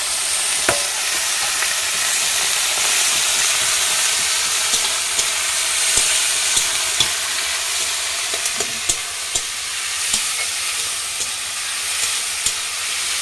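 Onions fry in a hot pan with a loud, steady sizzle and hiss throughout, broken by occasional light clicks of stirring.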